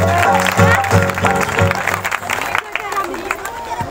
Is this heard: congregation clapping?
yes